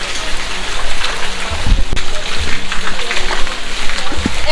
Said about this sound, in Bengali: অনেকদিন পরে বৃষ্টিতে ভিজতেছি